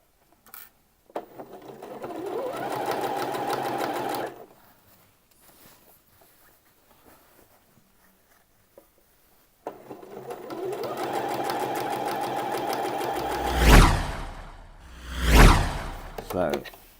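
Sewing machine running a long straight seam down the top edge of Thai wrap trousers, two close bursts of fast, steady whirring separated by a quiet pause, the second broken by fabric swishes and handling noises.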